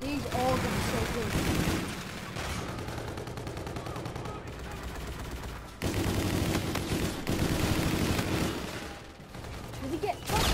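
Rapid automatic gunfire rattles through an Infinite Warfare match in loud, sustained bursts with short breaks, set against busy game sound effects while a voice talks over the action.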